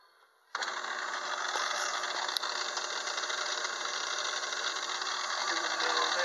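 A small 6-inch lathe fitted with a gear cutting attachment starts abruptly and runs steadily, cutting a 24-tooth gear; a constant mechanical whir with faint rattle persists close by.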